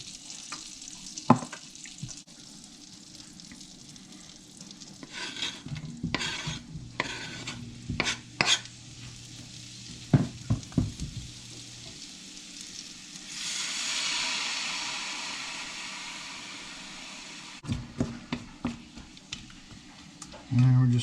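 Mushrooms frying in a pan with bourbon, balsamic vinegar and Worcestershire sauce, giving a steady close sizzle with intermittent stirring scrapes and clatter, and a louder hiss surge partway through.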